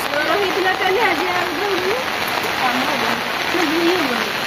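Rain falls steadily outside a house in a loud, continuous hiss, and a voice rises and falls faintly beneath it.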